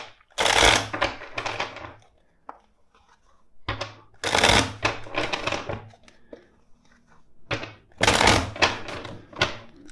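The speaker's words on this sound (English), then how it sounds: "let's shuffle the deck four times." Three bursts of tarot cards being riffle-shuffled, each a rapid fluttering rattle followed by a soft tap as the deck is squared, close and loud.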